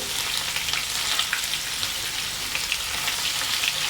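Chopped onions and fish fry in a hot pan, giving a steady, fairly quiet crackling sizzle with small spattering pops throughout and no talking.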